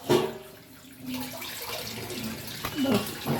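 Tap water runs and splashes while fish is washed at a kitchen sink, a close uneven gush with clattering handling sounds and short interruptions.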